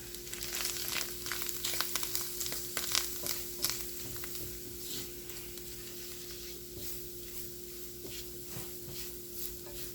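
Flour being stirred into browned sausage in a pan to make a roux for gravy, giving a soft steady sizzle with scraping, crinkly stirring strokes, louder in the first few seconds and then settling into a quiet hiss.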